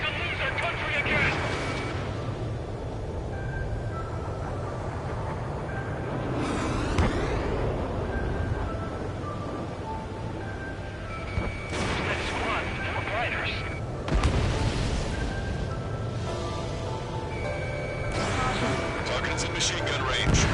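Gunfire and explosions from the Ace Combat 7 air combat video game rumble in a dense, continuous barrage, with radio chatter and voices talking over the battle throughout.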